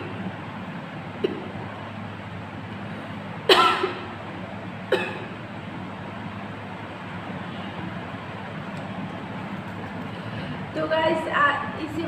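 Coughing from chilli fumes while chillies are roasted: a sharp cough bursts out, another follows about a second later, and a cluster of rougher coughs comes near the end, close and loud over a low background hum.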